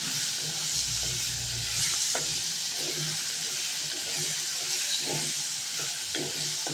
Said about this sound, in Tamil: சீரகம் மிளகு இதெல்லாம் சேர்ந்து நல்லா வதக்கிக்கோங்க